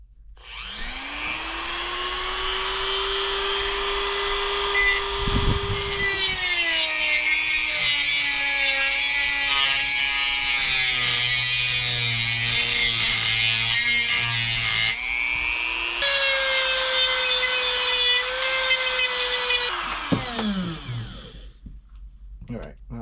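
A power tool grinds out weld beads on the handlebar of a 1960 Harley-Davidson Panhead, a loud, long whining cut with pitch changes as the tool bites and eases, pausing briefly mid-way before cutting again and winding down.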